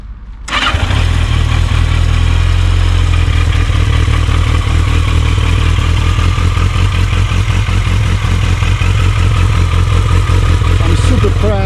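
A Yamaha XJ 650 Turbo motorcycle engine cranks and catches, then settles into a loud, steady running idle with a rough mechanical clatter, close up and continuous.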